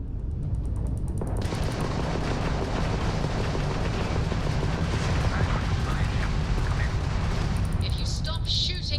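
Heavy, continuous booming weapons fire from starships in the Starfield video game roars loudly and densely throughout, with brief electronic beeps near the start and end.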